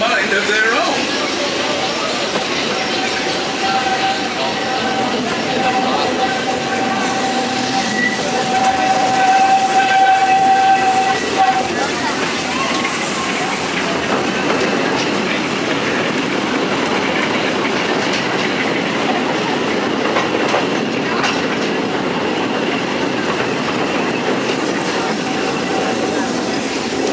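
The Walt Disney World Railroad steam train at Magic Kingdom runs with a steady loud rumble and clatter, and a sustained whistle tone sounds partway through.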